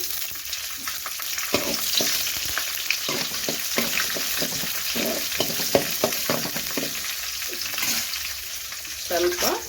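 Mustard seeds, chana dal, urad dal and green chillies fry in hot oil, giving a steady close sizzle with irregular crackling pops and stirring scrapes throughout.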